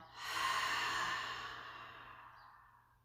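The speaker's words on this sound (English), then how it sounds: "Big inhale. Big exhale." A single long, loud breathy exhale through the mouth during a yoga session, swelling quickly and then fading slowly over about three seconds, with no talking.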